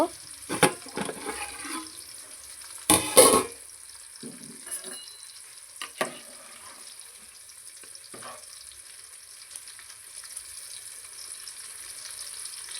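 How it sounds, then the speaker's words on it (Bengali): Ingredients frying in a pan for hotel-style biryani, with a faint steady sizzle broken by a few sharp clatters and scrapes of stirring, close by, with no talking. "এটাকে ভালো করে আমি পুরো লাল করে ভেজে নেব"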